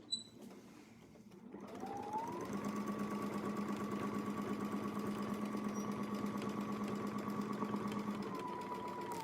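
A sewing machine runs steadily for several seconds, stitching along a crosshair line on a Westalee ContiClip setup, with a sustained motor hum and rapid needle rhythm after a brief start, no talk.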